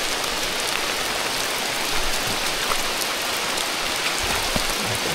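Steady rain pours down during a hike on Gunung Tahan, a dense and even patter on leaves and ground with no voices.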